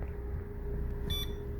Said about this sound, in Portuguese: Ó, bip.